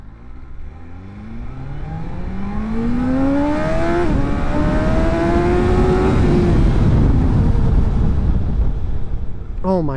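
A BMW M1000XR motorcycle accelerates hard from a standstill to 80, engine note climbing loud and close through gear changes, then holding a steady roar before easing off under braking.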